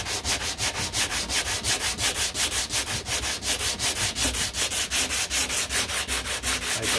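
Rough body work on the diffuser of a 1969 Corvette C3 being sanded by hand, a steady rhythmic rasping of strokes repeating about three times a second, close and loud with no talk.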